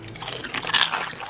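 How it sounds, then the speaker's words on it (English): Crunchy snack from a Thai 7-Eleven being bitten and chewed up close, a dense run of crisp crunches lasting about a second with no talking. "The crunch level is really good."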